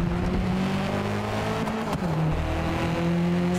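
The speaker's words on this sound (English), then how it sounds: "And the exhaust is a little bassier." Race car engine and exhaust in the Forza Motorsport video game, a loud, close, bassy exhaust drone that holds steady, dips briefly as gears shift, then climbs again, with no speech.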